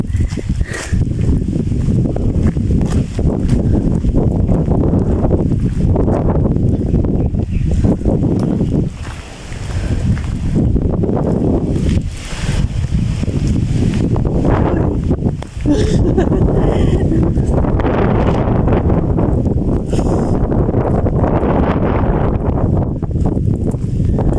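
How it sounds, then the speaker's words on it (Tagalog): Strong wind roars and buffets the microphone almost continuously at a nature park in Tanay, Rizal, a loud rushing noise with brief lulls, while muffled voices talk underneath. "So nakikita yung malakas yung hangin."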